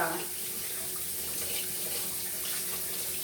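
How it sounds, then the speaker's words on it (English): Hands rinsed under a running kitchen tap, a steady close hiss of flowing water splashing into a sink, constant and unbroken for the whole stretch with no talking. "I gotta rinse my hands out before I can put this in the deep fryer"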